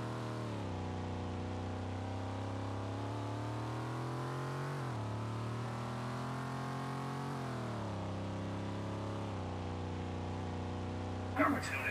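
A race car in a Roblox driving game on a Circuit de Catalunya track holds a steady, even engine drone for several seconds, pitch sagging and rising slightly as it brakes and accelerates, with no voices.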